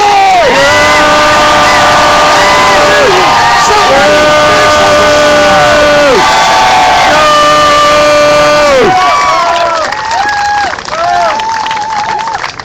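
A large crowd at a rally cheers, whoops and shouts loudly and continuously, with rising and falling massed voices and sustained yells filling the space.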